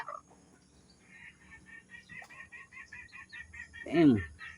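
Red junglefowl (labuyo), a rooster recovering from illness, lets out a single loud crow near the end, preceded by a run of faint rhythmic bird chirps in the background.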